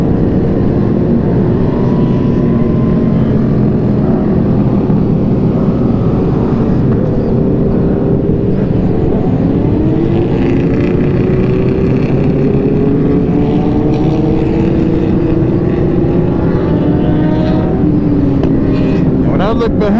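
Many motorcycles rumble together on a group ride-out, a loud continuous engine drone with shifting revs and passing bikes, while people talk over the noise.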